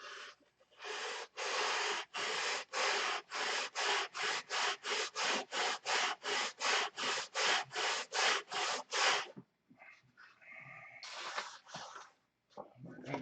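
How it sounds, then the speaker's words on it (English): Steady rhythmic rasping of a T-handle sanding bar pushed back and forth along wood, about twenty even strokes, close and loud, then a few irregular scrapes. "This T-handle sanding bar will get the entire length"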